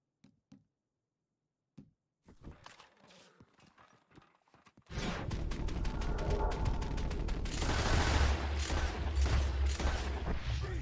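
Pistol gunfire in Red Dead Redemption 2 cracks out as a few sharp isolated reports, then a dense, loud stretch of rapid shots mixed with hoofbeat-like clatter fills the second half.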